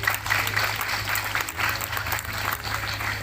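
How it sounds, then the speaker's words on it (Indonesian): An audience applauds Sujiwo Tejo at a live talk event, a dense burst of clapping that holds steady for a few seconds at moderate distance. "Tepuk tangan untuk beliau."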